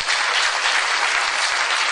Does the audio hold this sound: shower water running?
no